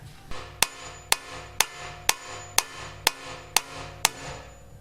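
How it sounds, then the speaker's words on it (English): Eight sharp metallic hammer blows on a car's metal suspension arm at a steady pace, each with a bright ringing decay, close and loud with no talking. "whack it with hammer"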